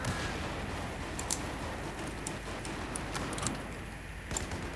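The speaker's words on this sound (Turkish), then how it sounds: "Herkes bomba atıyor." Battlefield 4 gameplay with constant dense combat noise, scattered sharp gunshot cracks and muffled explosion thuds spread through a loud, steady din.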